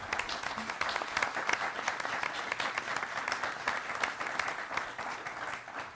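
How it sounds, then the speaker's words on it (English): Sustained applause rises from the audience after an Oregon gubernatorial candidates' debate hosted by a newspaper publishers' association. Many hands clap in a full, steady roar that stays strong for several seconds before easing slightly. "Let's give them a round of applause."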